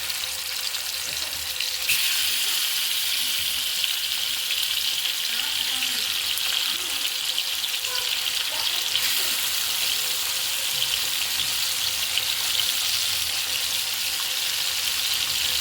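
Pathari fish and yam fry in hot oil in a pan, a loud, continuous close-up sizzle that swells noticeably after the first couple of seconds and holds steady throughout, with no talking.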